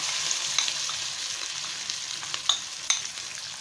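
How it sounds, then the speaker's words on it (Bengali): Ginger paste fries in a pan for Bengali patoler dorma with a constant close sizzle, while occasional light spatula scrapes and ticks mark the stirring. "আদা বাটা দেওয়ার পর নেড়ে নিলাম।"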